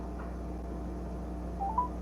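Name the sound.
telephone dialing and ringing for a call-in caller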